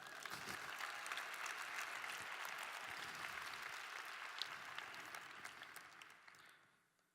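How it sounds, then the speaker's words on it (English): A conference keynote audience in Boston applauds, a dense, steady wash of many hands clapping from a large crowd, sustained for several seconds before fading out at the end. "Let's clap it up for her."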